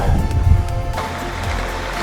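A small waterfall on a Cumbrian fell route pours steadily, a broad rushing wash of water close by, loud and continuous with no voices over it.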